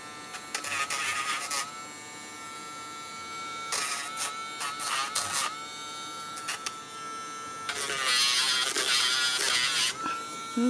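A Dremel rotary tool grinds a Cavalier dog's nails indoors, its close, buzzing motor whine coming in three bursts of several seconds each with short quieter gaps between, and no talking.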